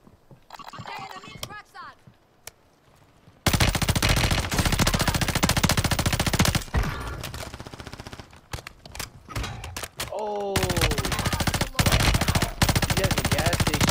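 Rapid automatic gunfire from the Striker 9 in Call of Duty Modern Warfare III, loud, dense bursts filling most of the clip after a quieter opening, with brief pauses and game effects between volleys.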